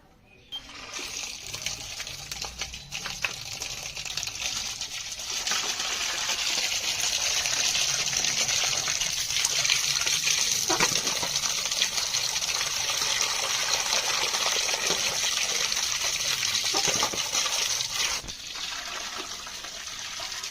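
Water runs steadily from a tap or pipe while freshly cut river crabs are washed for a village crab curry, a continuous close gushing hiss with faint splashes and occasional handling noises.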